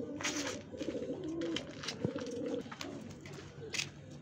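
Pigeons coo softly in low, throaty calls, with brief rustles and flutters between them; no talking.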